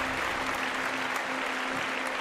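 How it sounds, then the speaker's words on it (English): A crowd applauds a live call-in show's guests, with a dense, even wash of clapping and a faint steady hum beneath it. "a big round of applause for them"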